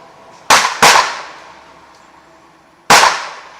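Rifle shots ring out while zeroing an ATN X Sight II scope: three sharp, loud cracks, two in quick succession and a third about two seconds later, each trailing off in a short echo.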